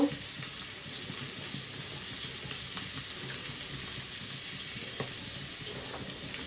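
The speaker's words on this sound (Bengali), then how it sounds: "হালকা করে পেঁয়াজ কুচিটাকে ভেজে নেব" Chopped onion frying lightly in a little oil in a steel pan, a steady soft sizzle with faint stirring scrapes, close by and without talk.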